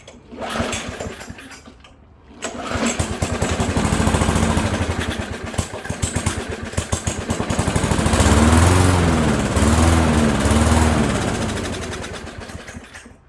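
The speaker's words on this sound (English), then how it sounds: "But notice she only runs when we were priming her." An old lawn mower engine sputters to life and runs roughly while being primed, a loud close chugging that surges, dips, and picks back up over about thirteen seconds with no talking.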